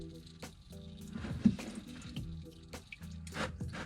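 Engine oil drains from a Holden VE V8 during a service, splashing and dripping irregularly with small liquid spatters and squishy handling noises, fairly close and moderately quiet.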